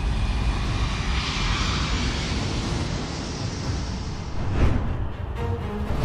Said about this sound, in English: It looks like some old MD-90 making a horrendous approach on runway 16-0